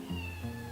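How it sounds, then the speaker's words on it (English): A cat meows in the background, one drawn-out, steady, tonal call lasting nearly a second, fairly faint against a quiet indoor room with no talking. "do you hear the cat in the background?"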